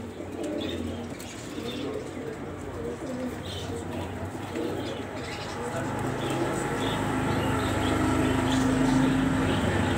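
Pigeons in an Alexandria loft coo in a low, continuous murmur, with occasional faint chirps over a steady background hum.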